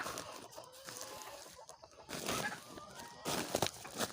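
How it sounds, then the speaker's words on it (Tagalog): Hungry brown Dekalb chickens cluck and chatter in a noisy, busy stretch around feeding, with bursts of louder bird calls toward the end. "yung mga manok ko oh. Gutom na gutom na."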